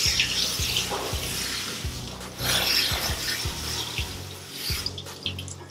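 Running water rinses the underside of a cat standing in a sink during a bath, a steady close splashing stream with rubbing and a few soft mechanical clicks.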